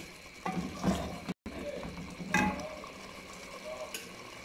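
Chicken being fried over high heat in curry masala in a pot, with soft sizzling and intermittent stirring scrapes at moderate distance, fairly quiet, broken by a brief silent gap.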